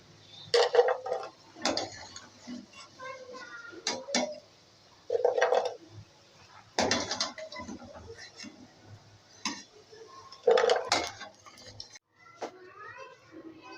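Freshly fried shakkar para, a sweet dough snack, are lifted from oil onto a plate with clinks and taps of a metal utensil against the plate and pan, in irregular bursts of moderate loudness.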